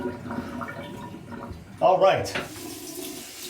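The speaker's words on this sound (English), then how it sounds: "I'm going to go ahead and drain the sink here." Water gurgles and rushes down a sink drain after a shave, a sudden loud swirl midway that fades, with someone speaking briefly before it.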